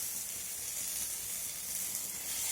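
Sliced bitter gourd and tomato fry together in a pan with ginger paste, giving a steady, soft sizzling hiss that carries evenly and quietly, with no talking.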